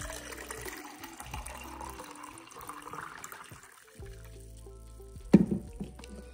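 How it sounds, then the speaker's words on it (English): Water runs steadily from a refrigerator's automatic dispenser as it fills a container, a soft continuous trickle followed by a brief louder splash near the end. "we just put it right in, and the fridge automatically fills it up"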